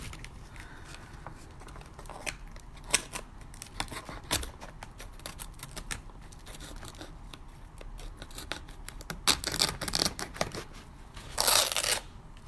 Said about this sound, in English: I'm just going to, you know, go all the way down with my X-Acto knife, and then I'm going to kind of, you know, tear a little bit too.